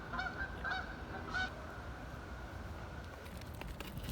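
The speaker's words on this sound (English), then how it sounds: "There are the chickens." Chickens calling outdoors: a few short, faint clucking calls in the first second and a half over a low, steady background hum.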